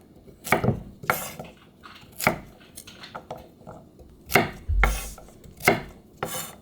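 A knife chops chestnuts into large pieces on a cutting board for five-grain rice, about a dozen crisp, uneven strikes close by, with no talking.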